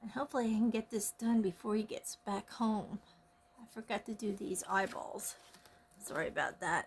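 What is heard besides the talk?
No everyday noise stands out behind the speech.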